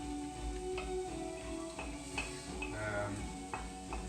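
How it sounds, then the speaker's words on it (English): Chopped spinach dropped into a frying pan of sizzling curry spices, a steady hiss of frying with scattered clinks and scrapes of a utensil stirring against the pan. "In goes your chopped spinach. Okay, chuck that in there."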